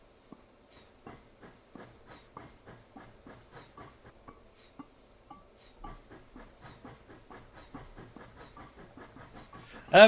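A train in the Train Simulator game pulls forward with a steady, accelerating clickety-clack of wheels over rail joints, the rhythmic beats quickening over a soft background hiss, heard clearly without any talk.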